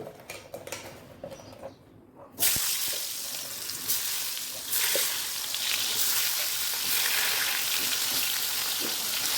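Whole pointed gourds (potol), rubbed with salt and turmeric, drop into hot oil in a wok. A quiet kitchen gives way to a sudden loud burst of sizzling that settles into a steady, crackling fry close by.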